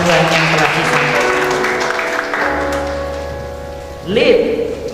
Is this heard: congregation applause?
yes